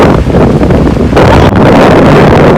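Ocean waves crash on a beach amid strong wind, a very loud, continuous roar of surf and heavy wind buffeting on the microphone, with a slight dip and renewed surge midway.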